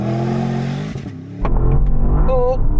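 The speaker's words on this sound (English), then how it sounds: "Let's see how quick this Turbo S is from 0 to 60." A Porsche Panamera Turbo S holds a steady rising engine drone on launch control, goes quiet for a moment, then bursts into a loud, close, deep roar of hard 0 to 60 acceleration with climbing revs and a higher whine near the end.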